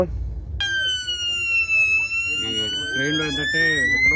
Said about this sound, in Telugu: ఈ ట్రైన్లో డేంజర్ అలారం అయితే వస్తుంది.